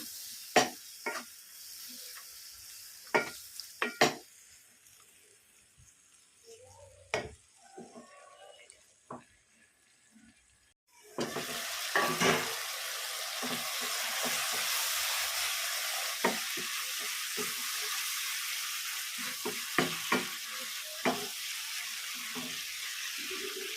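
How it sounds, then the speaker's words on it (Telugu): Chicken pieces stirred in a hot pan, first as sparse scraping clatters over quiet sizzling, then a sudden loud sustained sizzle with repeated spatula scrapes and knocks, close up and without speech. "చికెన్ వేసేసి ఇలా కలిపేసుకోవాలి"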